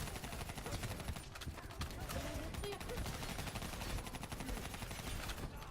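Rapid bursts of video game gunfire crackle continuously, dense overlapping shots and automatic fire over a busy, steady background din.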